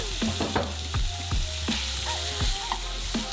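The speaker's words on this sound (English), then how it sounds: "And we'll put in the bacon since the pan is hot." Bacon fries in a hot pan for carbonara pasta, a steady close sizzle broken by repeated scraping and stirring knocks against the pan.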